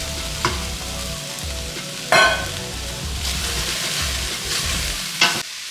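Chopped zucchini added to a pan of caramelized onions, frying with a steady sizzle and occasional stirring scrapes, plus a few sharp clatters near the start and end; no voices.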